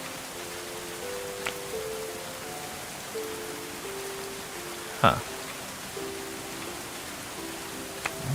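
Rain falls in the medieval colony-building game Going Medieval as a steady soft hiss under quiet background music, with a few faint clicks and a brief murmur from a voice.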